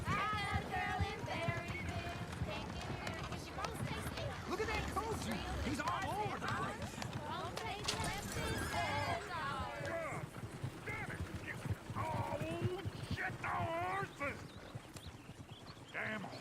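Horse hooves clip-clop steadily in the Western video game Red Dead Redemption 2, a loud, busy mix running under almost constant character dialogue throughout.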